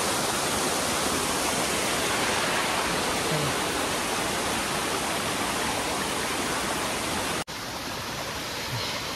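Steady rushing river water flows loudly and continuously at night, a broad wash of noise with no voices, briefly cutting near the end before resuming.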